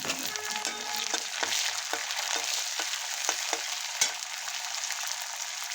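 Onion, peanuts and curry leaves frying in a pan for Maharashtrian pithala, a steady bright sizzle with occasional spoon scrapes and taps, close and continuous without talk.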